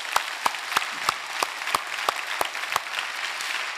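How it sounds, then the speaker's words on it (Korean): A church congregation claps in unison, sharp synchronized beats at a steady rhythm of roughly three per second over a bed of scattered clapping, fairly near and moderately loud. "우리 하나님께 영광의 박수를 올려드리겠습니다."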